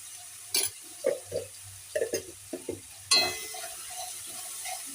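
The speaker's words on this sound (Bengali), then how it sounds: "পেঁয়াজটাকে ভালো করে নাড়াচাড়া করে একটু ভেজে নেব।" Onions frying with ginger-garlic paste in a pan, stirred with a utensil that scrapes and clinks in several short bursts over a steady low sizzle, with a louder sizzling surge near the end.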